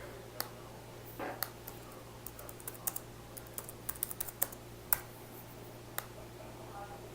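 Quiet, close typing on a computer keyboard: irregular soft key clicks spread over seven seconds with a low steady hum beneath.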